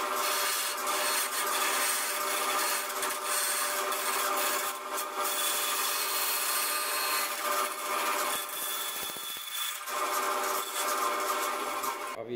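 A coping saw rasps steadily through wood in a continuous back-and-forth grind, close and fairly loud, pausing briefly near the end.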